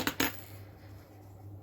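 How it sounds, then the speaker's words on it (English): Scissors snipping off a yarn tail end on a crocheted elephant keychain, two quick sharp metallic snips close by, followed by quiet room hum. "you can just take your scissors and snip off that tail end"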